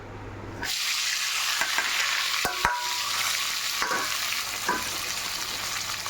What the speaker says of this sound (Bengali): এবার আমি পেঁয়াজ টমাটমটা এর মধ্যে দিয়ে দেবো